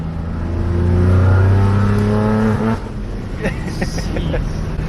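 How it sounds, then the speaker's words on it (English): A loud Subaru BRZ with an aftermarket exhaust revs up with a deep, throaty exhaust note, then drops off as it shifts, with a brief voice-like sound near the end. "Yeah, the exhaust changes the whole car"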